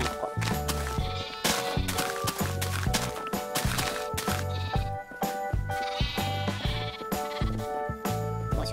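Sheep in the Minecraft video game bleat again and again in a dense, overlapping chorus. Soft footstep-like clicks run underneath, with no talk.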